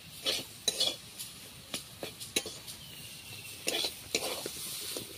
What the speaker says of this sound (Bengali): দিয়ে দিচ্ছি একটু গরম মশলা। ভালোভাবে নাড়াচাড়া করে নিচ্ছি।